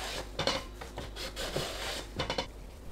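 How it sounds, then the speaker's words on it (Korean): Zucchini is sliced thin on a handheld slicer, giving a quick series of close, soft rasping swipes in an uneven rhythm, quiet and unaccompanied by speech. "슬라이서로 얇게 썰어주세요."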